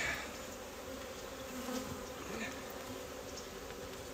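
Agitated honey bees buzzing around an open hive during an inspection, a dense, steady close-up drone with individual bees whining past, no talk.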